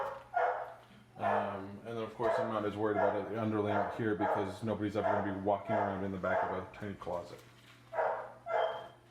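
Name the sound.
dogs barking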